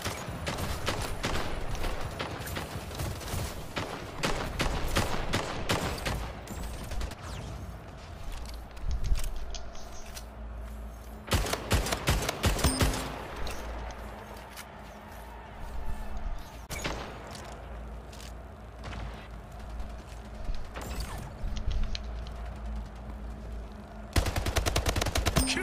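Carbine gunfire in the Splitgate video game, with repeated bursts of rapid close shots separated by quieter gaps and occasional footsteps, fairly loud throughout.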